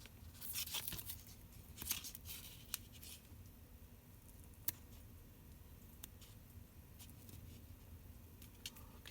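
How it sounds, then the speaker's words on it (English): Tape is peeled off a mini vinyl beach bag, a faint close-up sequence of short ripping and tearing sounds with a few sharp ticks and crackles, quiet and intermittent. "We want to go back in and remove this tape here."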